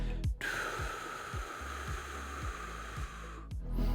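Breathy, unsupported air blown without an instrument, a steady hiss broken by soft rhythmic pulses of the breath stream, close and fairly quiet, with no talking.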